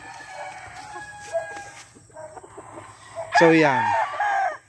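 A white-and-red Straight Boston hen, a gamefowl, calls near the end with a loud, rising squawk, after softer clucks and background birds; someone speaks briefly.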